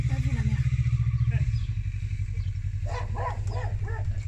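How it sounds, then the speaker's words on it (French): A motorcycle engine drones steadily and loudly close by throughout, its tone shifting slightly partway, with voices talking over it outdoors. "Ouais c'est ça la moto."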